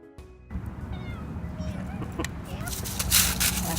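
A cat meows a few times over constant low rumbling background noise, with rustling and a brief louder burst near the end.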